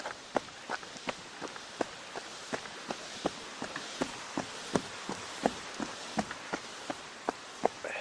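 Quick, evenly spaced running footsteps thump on a hollow wooden plank bridge at Rithet's Bog, about two per second, with light rain hissing in the background.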